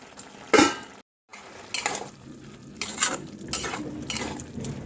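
A metal lid comes off a cooking pot of simmering cabbage and potato with one sharp clank, followed after a brief silence by soft scraping and stirring in the pan.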